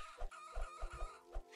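Chicken in the video game Planet Centauri clucking in a quick run of five or six short, rhythmic calls, fairly faint and close, with no talk over it.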